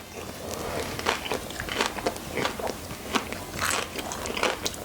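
Crisp birria tacos give loud, close crunches as they are bitten and chewed, in a series of sharp, irregular bursts with no speech.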